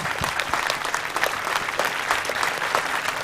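An audience at the Local Hero Awards 2019 applauds a young trophy winner, lively sustained clapping with distinct individual claps standing out from the crowd, loud and close throughout.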